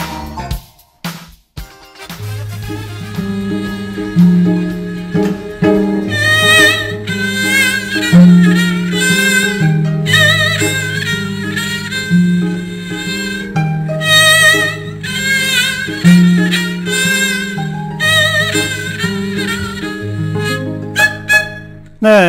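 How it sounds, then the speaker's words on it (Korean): A South Korean haegeum and a North Korean okryugeum play an ensemble piece at a state banquet performance. The haegeum's bowed melody rises over the plucked zither tones, loud and clear, with no voices throughout. "우리 악기 해금, 또 북한 악기 옥류금 합주 소리를 들으셨습니다"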